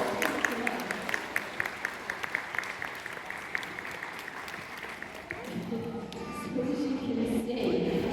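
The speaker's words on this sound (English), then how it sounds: "give them a little round of applause" Spectators at a sea lion show in a safari park clap in a scattered, crisp round of applause, individual claps distinct and fairly close, then giving way to crowd murmur and a voice near the end.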